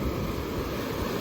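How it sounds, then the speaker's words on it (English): Ocean waves roll onto a beach on a hot, breezy day, a steady broadband wash of surf mixed with wind buffeting the microphone, continuous and fairly close with no voices. "there you can see some waves"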